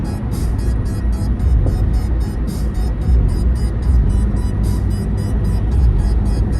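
A car passes on the road, a steady close roar of engine and tyre noise holding over several seconds and swelling slightly as it goes by, with no talk.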